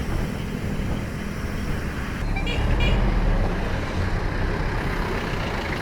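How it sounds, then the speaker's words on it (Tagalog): Steady road traffic rumble with a short car horn toot partway through, somewhat distant under the engine noise. "Sino ng busina?"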